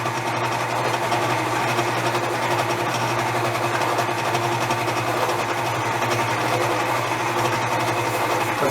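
A stand mixer beating panettone dough at reduced speed, giving a steady whirring motor hum with a constant mechanical drone throughout, close and even with no talking.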